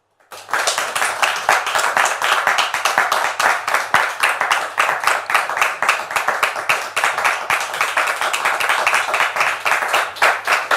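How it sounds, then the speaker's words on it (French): A church congregation claps steadily and rhythmically, many hands close together, sustained loud applause that carries on without letting up. "je voudrais qu'on le reçoive avec applaudissements, comme on sait si bien le faire"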